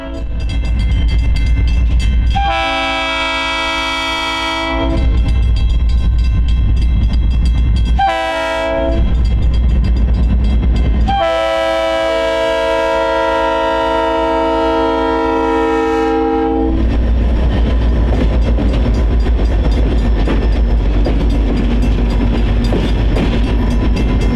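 Light locomotive power move on an Arizona railroad heading back to Hayden Yard, sounding several loud multi-tone horn blasts, short and long, over a constant deep diesel rumble and rolling wheel noise, close by.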